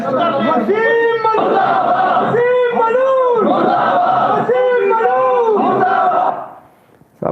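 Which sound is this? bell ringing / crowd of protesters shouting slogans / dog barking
crowd of protesters shouting slogans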